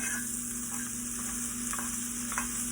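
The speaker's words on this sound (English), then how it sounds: "Let's go ahead and let's baste it one more time." Sirloin steak sizzling and frying in a skillet while being basted, a loud steady crackle with soft spoon scrapes and splashes repeating every half second or so, no talk.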